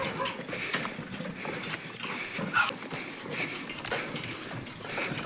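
Pair of bullocks pulling a cart along a road, hooves clopping in an uneven walking rhythm at moderate distance over a constant rumbling outdoor background.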